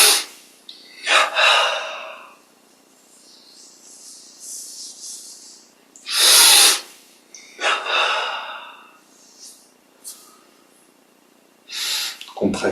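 Deep breaths drawn in during a guided meditation exercise, several loud, close inhales and exhales spaced a few seconds apart, with quiet pauses between them.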